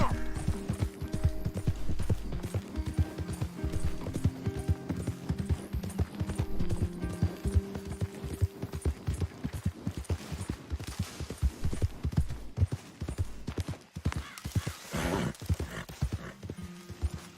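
Hooves of a ridden horse clip-clop in a steady, continuous rhythm for the whole stretch, close and clear, over low tonal background sounds.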